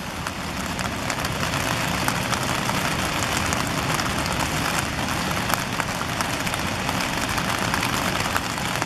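Heavy, steady pouring rain over a city, a continuous dense hiss with faint droplet patter, close and unchanging throughout, with no voices.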